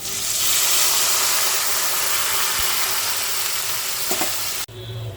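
Water added to a hot pan of fried potatoes and spices, hissing and bubbling loudly and steadily up close, then cutting off abruptly near the end.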